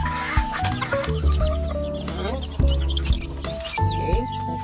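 Chicks cluck and peep busily while being fed, with chirps and clucks scattered close by throughout and a person speaking over them.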